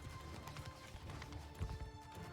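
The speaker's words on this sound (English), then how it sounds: "Here come those horse archers." Horse archers gallop in a large battle in the Bannerlord video game, a faint, dense clatter of hooves drumming steadily from a distance with scattered crashes and a brief whinny.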